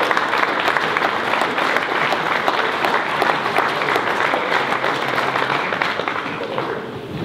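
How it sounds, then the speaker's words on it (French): At a 2020 municipal New Year's greetings ceremony, a hall full of people gives sustained, dense applause for councillors and staff. The clapping stays loud throughout and fades slightly at the end. "On peut les applaudir, les élus et les techniciens"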